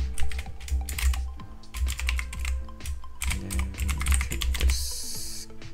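Rapid, continuous typing of Java code on a computer keyboard, close and crisp, with clustered keystrokes and a few brief pauses, no talking.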